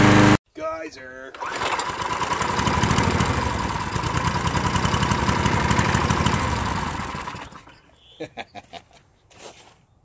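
A small engine lubricated with body lotion runs steadily for several seconds, a loud, close buzzing drone that sags slightly in pitch before cutting out, followed by a few scattered knocks and clicks as it falls quiet.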